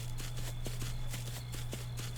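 Horse hooves clop at a steady walking rhythm while riding in the video game Far Lands, even footfalls repeating close by over a constant low engine-like hum.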